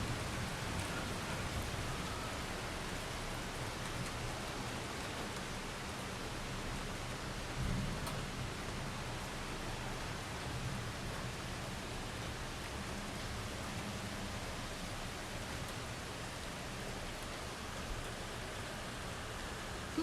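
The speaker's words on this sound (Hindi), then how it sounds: "ये हो रही है बारिश और ये हैं काले बादल।" Steady, heavy rain pouring down under dark clouds, a dense continuous wash of drops on surfaces with low rumbling underneath, no voices.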